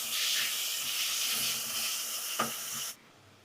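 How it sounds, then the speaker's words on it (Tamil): Mint and coriander leaves sautéing in a pan for sweet corn biryani, a loud steady hiss of frying that fades slightly, with a brief clatter near the end before the sound drops away. "இது கூடயே கொஞ்சம் புதினா கொத்தமல்லி இதையும் சேர்த்துக்கிறேன் எல்லாம் சேர்ந்து நல்லா வதங்கட்டும்"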